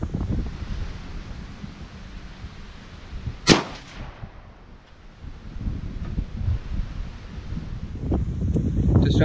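A single sharp crack of a 65-grain 5.56x45 full metal jacket round fired from an AR rifle at a 20-pound dumbbell target rings out outdoors, then fades under steady wind noise.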